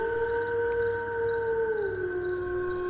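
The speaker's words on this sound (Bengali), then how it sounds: "আর দূর থেকে শিয়ালের ডাক ভেসে আসছে।" Long drawn-out howl of a jackal at night near a graveyard, a sustained wavering tone that slides downward near the end, over faint crickets.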